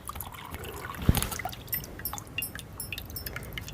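Whey from rasmalai and rasgulla curds drains through a sieve into a pot as a faint, close trickle with scattered soft drips and one brief splash.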